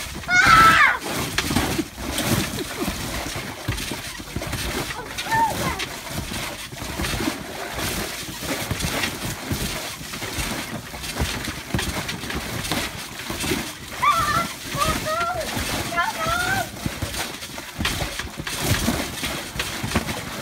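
Splashing and sloshing of water as people bounce and trample in it, with continuous wet slaps and churning throughout, nearby and moderately loud, with occasional voices mixed in.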